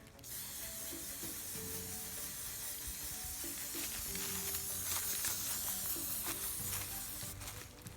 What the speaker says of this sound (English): grab your can of spray paint and hit the top with a couple of coats